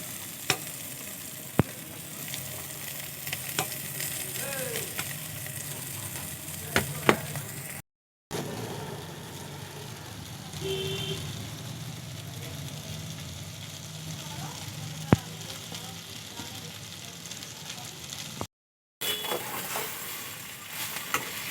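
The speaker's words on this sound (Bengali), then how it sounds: "আমার সবজিগুলো ভাজা ভাজা হয়ে গেছে" Vegetables sizzle steadily in a hot pan, a continuous crackling fry with occasional clicks of a utensil stirring.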